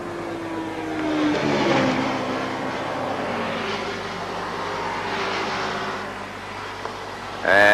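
Racing motorcycles at the Castrol 6 Hour race roar past, their engines rising and falling in pitch as they go by at a distance. A louder burst of engine noise comes right at the end.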